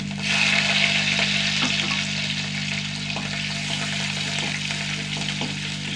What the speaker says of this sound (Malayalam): കാൽ ടീസ്പൂണ് ഉലുവാട്ട പൊട്ടട്ടെ